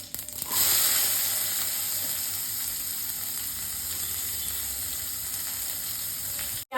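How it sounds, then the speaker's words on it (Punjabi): Onions fry with mustard seeds and curry leaves in a pan, a steady close sizzle and hiss that holds through to a brief clatter at the end. "ਪਿਆਜ਼ ਨੂੰ ਆਪਾਂ ਟਰਾਂਸਪੇਰੈਂਟ ਹੋਣ ਤੱਕ ਭੁੰਨਣਾ ਹੈ"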